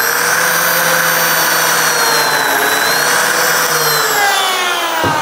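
A Lamello Zeta biscuit joiner whines loudly and steadily as it plunges halfway into a workpiece against its locked fence, the motor tone dropping at the end.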